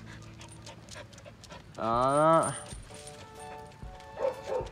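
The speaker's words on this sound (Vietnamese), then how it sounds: "Chuẩn chó săn, dòng chó săn nha." A female brindle Hmong bobtail hunting dog pants steadily and gives a short drawn-out bark-like yelp at close range. Someone speaks briefly.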